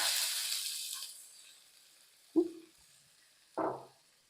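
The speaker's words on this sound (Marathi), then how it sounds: "आता इथं बघा तेल गरम झालेलं आहे आणि सगळ्यात आधी आपण याच्यात थोडंसं जिरं घालू आणि हा बारीक चिरलेला एक कांदा" Cumin seeds and finely chopped onion dropped into hot oil for a tempering, with a broad sizzling hiss at the start that fades, followed by two sharp, separate splashes as more goes into the pan.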